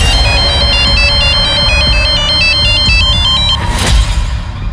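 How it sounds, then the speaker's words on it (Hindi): A mobile phone ringtone for an incoming call plays as a loud, repeating electronic melody that stays steady for several seconds and then stops, with no one speaking. "उस दिन परी का फोन आया था मुझे।"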